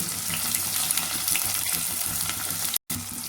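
Onions and green chillies fry in hot oil with a steady, close crackling sizzle that holds throughout, broken by a brief dropout near the end.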